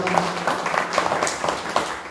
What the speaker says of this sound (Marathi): त्यांचं प्रथम आपण सर्वांनी टाळ्या वाजवून स्वागत करा